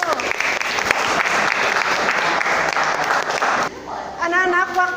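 Students in a chemistry class break into sustained clapping for close to four seconds, dense and steady, before it gives way to a teacher's voice speaking over the room.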